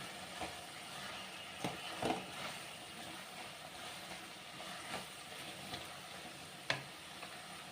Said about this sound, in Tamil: இதையும் நல்லா அப்படியே வதக்கி விட்டுக்கணும்